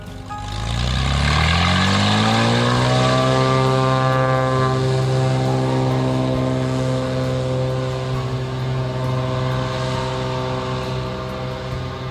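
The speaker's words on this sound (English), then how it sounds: "the Cessna 206 is leaving and will not be back" A Cessna 206 floatplane's propeller engine rises in pitch as it revs up for takeoff from water, then holds a loud sustained drone that fades slightly as it pulls away.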